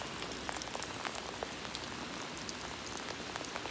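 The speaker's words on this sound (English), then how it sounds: "Yep, here comes the big drops again." Lake effect rain pelts down in big drops, a dense, steady patter of impacts striking nearby surfaces and clothing, continuous and fairly loud with no voices.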